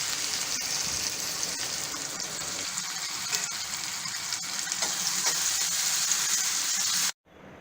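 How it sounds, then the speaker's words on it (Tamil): Onion sizzles and crackles steadily in oil in a pan, a loud continuous frying hiss that cuts off abruptly near the end. "அதை வந்து நம்ம நல்லா ஃப்ரை பண்ணிக்கணும்."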